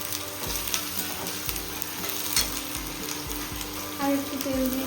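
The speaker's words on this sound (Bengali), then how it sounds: "বেরেস্তা করার জন্য আমি পেঁয়াজটা নিয়েছি। এবার ভালো করে এটাকে মুচমুচে করে ভেজে নেব।" Sliced onions frying in oil until crisp for chicken biryani, a continuous close sizzle with occasional stirring scrapes and a brief hiss as more oil is added, with faint background talk.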